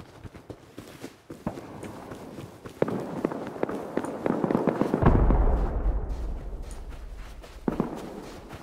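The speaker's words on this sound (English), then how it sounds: "they're shooting at me" Gunfire in a base-raiding video game crackles as scattered sharp shots over a shuffling, movement-like clatter, building into a denser, louder stretch with a low rumble before tapering off.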